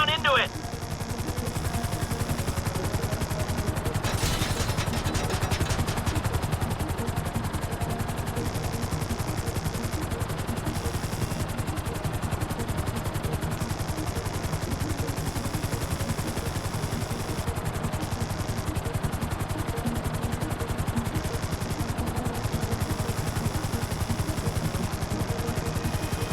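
Helicopter hovering in Grand Theft Auto V, a dense, loud, constant rotor and engine roar throughout, with a brief sharp burst near the start.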